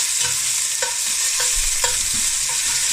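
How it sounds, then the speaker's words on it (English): Beef browns in a hot pan for a spicy casserole, a loud constant sizzle and crackle close by, with regular scraping stirs every half second or so. "Right, so we're just going to brown off the meat."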